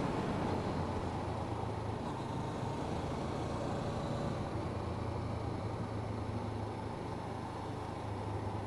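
A motorcycle rides along an open road through a big curve, with a steady, loud, unbroken roar of wind and engine rumble and no talking.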